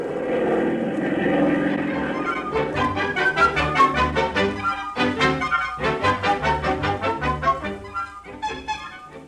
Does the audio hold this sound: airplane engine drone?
yes